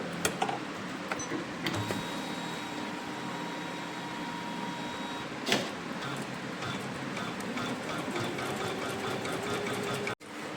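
A sewing machine stitches a cutwork corner on a suit, its steady, close mechanical whirr running without a break, with a brief extra clack partway through and a sudden stop near the end.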